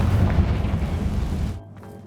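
Confringo blasting spell going off in Hogwarts Legacy, a deep, rumbling boom that rolls on for over a second before cutting off sharply, loud and close, with no voices.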